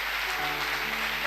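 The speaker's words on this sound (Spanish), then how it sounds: "Yo quiero que la iglesia ahora le dé un aplauso también a ellos" A church congregation applauds together during a service, dense steady clapping filling the whole short moment without a break, with a faint low tonal hum sitting underneath.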